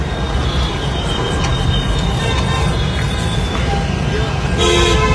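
A loud, steady rumble of a metro train running through a station near Nashik Phata, Pune, with a horn-like tone breaking in near the end.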